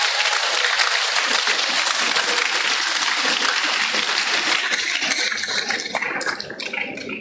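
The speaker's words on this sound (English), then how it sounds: "Let's give a round of applause again." Loud, dense applause from a large audience at a university during a visit by Tunde Kelani, sustained clapping that thins slightly toward the end.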